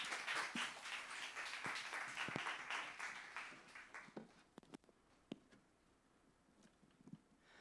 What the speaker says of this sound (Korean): 전도사님 나오실 때 박수로 환영할까요?